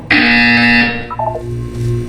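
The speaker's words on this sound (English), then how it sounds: "When you hear the buzzer, look up at the ceiling" A loud electronic buzzer in Portal 2 blares for about a second, then cuts off into a brief descending tone with a low hum underneath.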